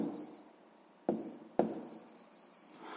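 Pen or pencil writing the answer to a sixth-grade math exercise, soft scratchy strokes close to the microphone, with two sharp taps as the tip meets the paper, quiet overall.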